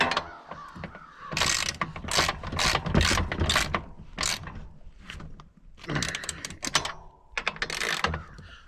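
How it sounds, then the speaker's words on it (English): Ratchet on the bolts of a Massey 50 tractor during maintenance: close, loud bursts of rapid clicking, broken by short pauses and a brief quieter gap. "Cinch these four bolts down a little bit."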